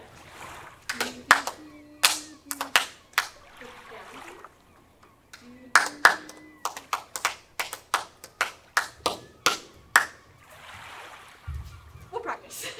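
Hands clapping a rhythm on a theatre stage, sharp close claps in short uneven groups, a brief voice imitating the rhythm with syllables between them, and a later run of about a dozen steady claps.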